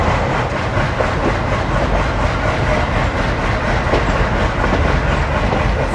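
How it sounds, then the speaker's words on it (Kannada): GTL-based ALCo diesel locomotive hauling the Kacheguda–Narkher InterCity Express, heard from behind the engine as a continuous heavy rumble with faint rhythmic chugging and clickety-clack of wheels, loud and steady without talk. "ಕೇಳಿಸ್ತದೆ ಅಲ್ವಾ ಆಲ್ಕೋ ಚಗ್ಗಿಂಗು."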